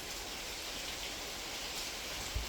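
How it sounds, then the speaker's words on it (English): Rain falls steadily outside an open garage, a soft, even hiss of drops with no talk, and one small knock near the end. "it's really nice to have this like rain ambient stuff"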